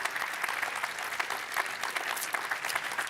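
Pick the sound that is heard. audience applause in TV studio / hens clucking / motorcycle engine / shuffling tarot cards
audience applause in TV studio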